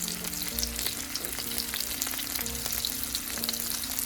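Thai eggplant with chili paste sautéing in a pan: steady, close crackling sizzle with scattered pops and occasional stirring scrapes, no voices.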